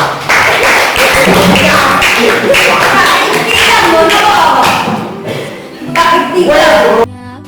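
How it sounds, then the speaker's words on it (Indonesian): Children in a classroom clap their hands together in a dense burst of rapid claps that fades out, with some voices and shuffling mixed in nearby. "Baik, tepuk tangan anak-anak."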